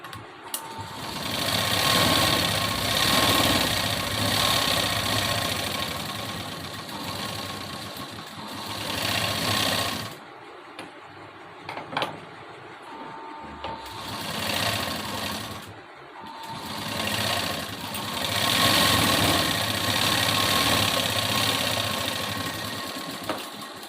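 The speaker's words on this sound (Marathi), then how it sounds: "आता इथे मी हा स्टिच करून घेते." A sewing machine stitches blouse lining in a steady mechanical whir, running in long bursts with brief pauses between them, close and loud.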